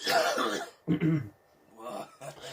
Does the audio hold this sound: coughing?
yes